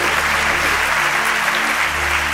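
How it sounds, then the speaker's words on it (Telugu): A church congregation claps together during a service, producing a dense, steady round of applause that fills the whole moment without any voices. "చప్పట్లు కొట్టి ప్రభుని మయం పరుద్దాం"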